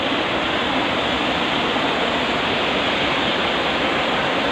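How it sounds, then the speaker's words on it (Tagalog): Rushing water of Tili Ti Nuang waterfalls: a dense, steady, broadband roar of falling water, loud and unbroken throughout, with no voices. "Mula po dito ay naririnig po natin ang lagaslas po ng tubig."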